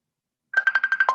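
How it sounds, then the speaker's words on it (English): A phone ringtone from an incoming call, a steady electronic tone pulsing in quick repeated bursts, loud and close, starting after a short silence. "the call came through to my phone as well as through to my iPad"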